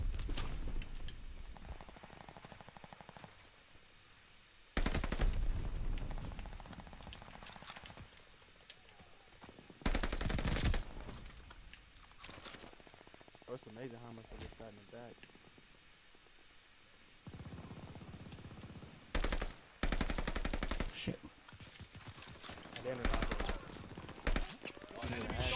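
Video game gunfire comes in loud bursts of rapid shots, several automatic volleys separated by quieter stretches, with a voice talking intermittently in between.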